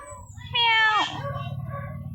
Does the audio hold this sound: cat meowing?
yes